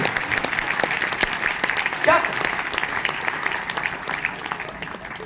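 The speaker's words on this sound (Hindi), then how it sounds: "आइए थोड़ी तालियों की दौड़ धूप आप भी कर दें तो ठीक हो" Audience applause at a Hindi poetry gathering, a steady dense wash of clapping throughout, with a speaking voice briefly heard over it.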